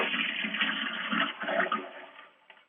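A toilet flushes in a single continuous rush of water, loud and close, then tapers off near the end; no voices.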